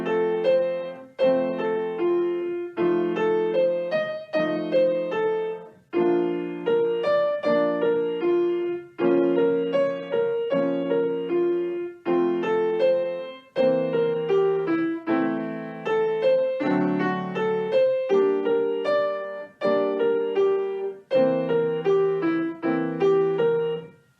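Piano plays a flowing melody over repeated left-hand chords, steady phrases in a regular rhythm, clear and close with short pauses between groups.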